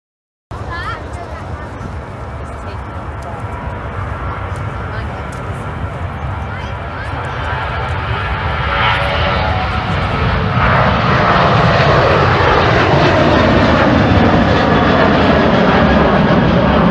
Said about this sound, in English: you can actually hear planes going off outside